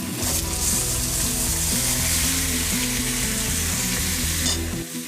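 Elephant foot yam stalks sizzle and fry in a pan with browned onions, a steady close crackle with stirring scrapes throughout, no voices.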